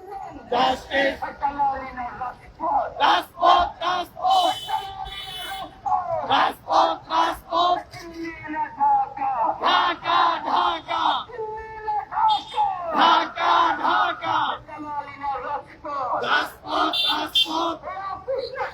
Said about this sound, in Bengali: মানববন্ধন এই মুহূর্তে বিক্ষোভ মিছিলে রূপ নিয়েছে মানববন্ধনের স্লোগান সিলেটবাসী চাই কি সাকসু সাকসু